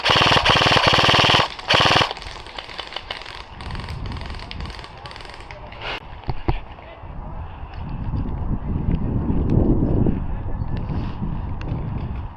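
An airsoft light machine gun (LMG) fires rapid bursts close by during an outdoor skirmish, loud rattling volleys at the start, then scattered shots under wind noise and rustling.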